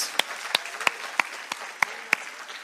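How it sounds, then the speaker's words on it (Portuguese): Scattered applause from a church congregation during a Portuguese-language service, heard as about seven separate sharp claps spaced evenly apart, fairly faint and sparse rather than a full ovation, with no talking. "Você pode dar um aplauso a Jesus por isso?"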